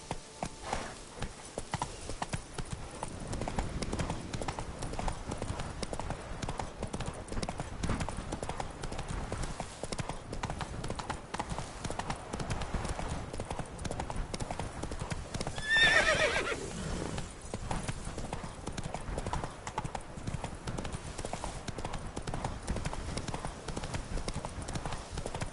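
Roach the horse from The Witcher 3 galloping at length, a continuous rapid clip-clop of hooves with steady rhythm, a brief whinny partway through, and quiet background voices.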